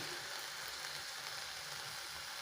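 Spices fry in a pan with a continuous bright, hissing sizzle, steady and fairly quiet, with no voices.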